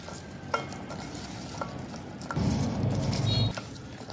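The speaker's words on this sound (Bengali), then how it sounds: "এখন দিব সরিষার তেল। এখন দিয়ে দিলাম কাঁঠালের বিচি।" Jackfruit seeds frying in hot mustard oil, a steady close sizzle that swells louder partway through as the seeds hit the pan, with light stirring scrapes.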